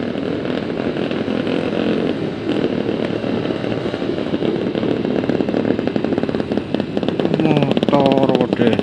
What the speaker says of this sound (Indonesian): Motor diesel.